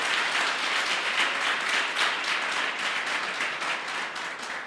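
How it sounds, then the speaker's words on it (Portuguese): A church congregation applauding during a sermon, a broad, continuous wash of clapping at moderate distance that holds steady for several seconds and then begins to fade. "Você pode aplaudir ao Senhor?"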